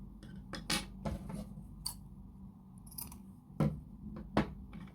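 Crochet yarn is snipped with scissors, giving several quick, crisp close-up snips and clicks scattered across the moment, with a quiet background and no talking.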